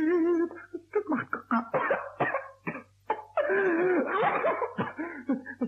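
Fits of coughing from a character in a 1964 German Pumuckl radio play, mixed with voiced, wheezy vocal sounds and throat noises, close and fairly loud without any clear speech.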